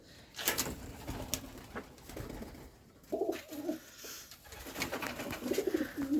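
Domestic pigeons coo in several soft, throaty bursts while feeding on fresh greens, with pecking and shuffling noises between the calls, close by and moderately loud.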